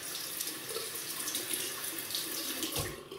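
A water tap runs steadily into a sink for rinsing after a shave, a close, even splashing hiss lasting a few seconds with no one speaking.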